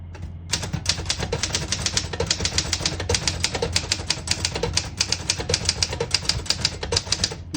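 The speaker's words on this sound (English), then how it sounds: "I'm typing very fast on this thing." Rapid, steady typewriter keystrokes clatter nonstop at close range, a dense run of sharp mechanical clicks with no talking.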